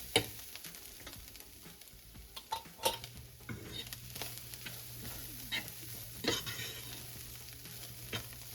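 A fork scrapes and stirs chili in a non-stick pan over a steady sizzle, with irregular clinks and scraping strokes close by and no talking.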